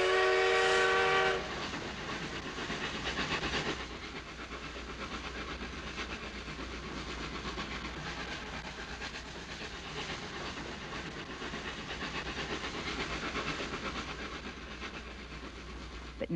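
Steam locomotive sound effect: a short whistle blast opens, then a continuous rumbling run of wheels and rails with faint rhythmic clatter, loud and steady throughout.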